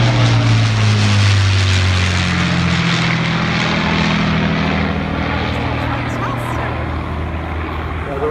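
Avro Lancaster, the four-engined Second World War bomber, flying past at a steam rally in Oxfordshire, its propeller engines a loud, steady low drone that fades slightly as it passes, with voices speaking over it.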